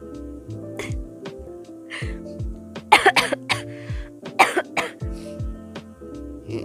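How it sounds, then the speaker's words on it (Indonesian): Several harsh coughs, clustered in two bursts, close to the listener, over faint background music. "Aku lagi batuk."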